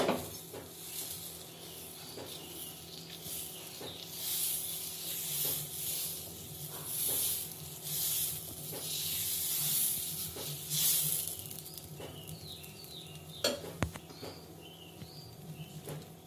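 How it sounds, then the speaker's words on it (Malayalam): Green gram dosa batter poured onto a hot pan sizzles with a steady, soft hiss and light crackle, close and continuous, with a few small clinks near the end. "പാൻ ചൂടായി നമുക്ക് ദോശമാവ് ഒഴിച്ചു കൊടുക്കാം."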